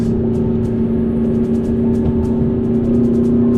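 A McLaren MP4-12C cruising along a canyon road, its engine holding a steady, loud drone with a constant low hum and no clear revving or gear changes.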